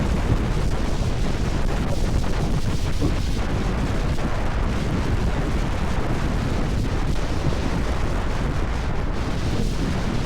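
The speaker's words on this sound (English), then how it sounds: "Wind was sucking me over the line in that corner." Heavy, constant wind buffeting the microphone while riding a tuned scooter at speed, a loud rumbling roar that masks everything else for the whole stretch.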